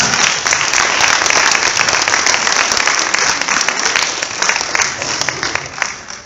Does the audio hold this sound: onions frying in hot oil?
no